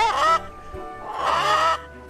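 Two loud, harmonic honking calls from chickens, each lasting a fraction of a second, separated by a short pause with a faint low thump between them.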